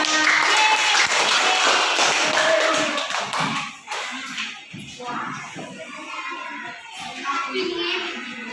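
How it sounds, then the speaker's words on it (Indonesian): Primary school pupils in a classroom applaud the presenting groups, a close burst of many small hands clapping and tapping that thins out after a few seconds into scattered taps, shuffling and children's voices. "Tepuk tangan untuk kita semua."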